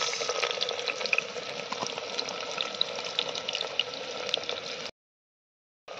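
Sliced onions hit hot oil in a pan at an outdoor winter forest campsite, a loud, steady hiss and crackle that runs continuously before cutting out abruptly near the end.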